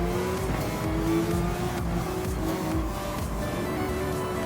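A car engine drones and revs steadily as it brakes and accelerates gently through a tight left-hand corner on the Nürburgring, with some tyre noise under the continuous engine note.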